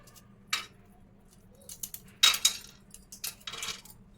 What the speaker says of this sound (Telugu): ఈ స్టార్ పువ్వుని అలాగా తీసుకొని మనం ఇలాగా విరుచుకొని వేసుకోవాలి